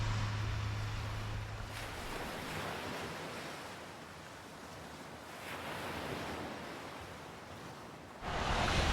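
Ocean waves wash onto the shore at Yeppoon on Australia's east coast, a continuous broad rushing surf that swells and recedes, with some wind buffeting the microphone.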